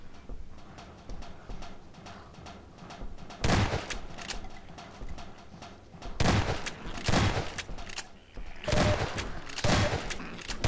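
Shotgun blasts in Half-Life 2's Ravenholm: several loud, sharp shots come in irregular bursts a second or more apart, with quieter game ambience and scuffling between them.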